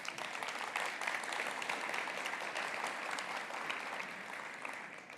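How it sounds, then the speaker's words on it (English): People at a morning science forum on bone and joint health applaud together: a continuous, even wash of many hands clapping, moderately distant and fairly soft, holding steady without speech before tapering off. "let's give a round of applause for everyone showing up today."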